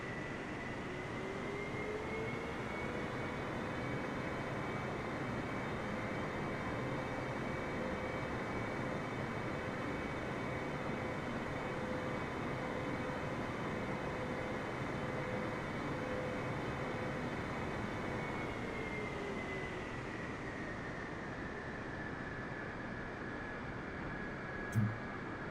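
A small airplane taxiing across a runway gives off a steady, loud engine drone with a constant whine, easing down near the end.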